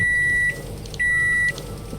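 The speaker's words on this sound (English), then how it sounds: "Let's put the beef into the microwave." A microwave in a Minecraft furniture mod starts cooking beef, giving two short electronic beeps about half a second apart, each a steady tone over a faint background hum.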